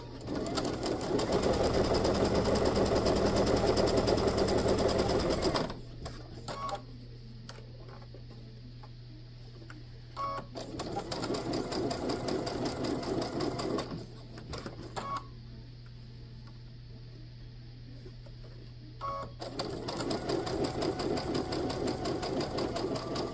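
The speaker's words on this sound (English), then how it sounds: "with a quarter inch seam allowance, we're gonna sew all the way around that outside bit" Home sewing machine stitching a quarter-inch seam around the outside flap of a fabric bag, running in three long bursts of steady rapid whirring separated by quiet pauses, close and clear with no talk.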